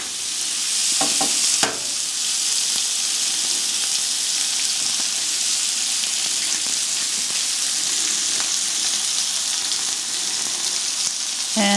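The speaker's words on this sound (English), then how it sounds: "I'm going to throw in some butter." Butter sizzles steadily in a hot frying pan beside crispy bacon, a close, even hiss that runs unbroken for about twelve seconds, with a brief clatter of a utensil early on and no talking.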